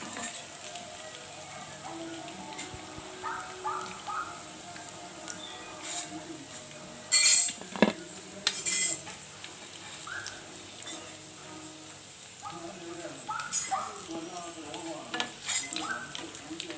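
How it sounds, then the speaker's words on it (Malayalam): Crisp fried chicken 65 is scooped out of a pan of hot oil into a bowl, with a steady sizzle, scraping and stirring, and a few louder metallic clatters partway through. "നമുക്കിനി ഇത് കോരി ഒരു പാത്രത്തിലേക്ക് മാറ്റി വയ്ക്കാം."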